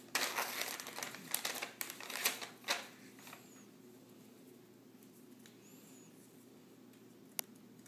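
A card is pulled from crinkling present wrapping, a burst of close rustling and crackling paper that fades into a quiet room, with one small click near the end.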